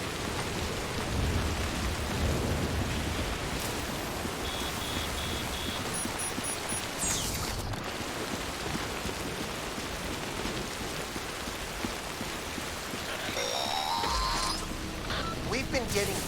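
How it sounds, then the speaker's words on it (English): Timefall rain in the video game Death Stranding hisses steadily on surfaces, with low thunder rumbling beneath and a few brief electronic tones, while voices talk over the downpour. "We've been getting near constant timefall in this region for a while now."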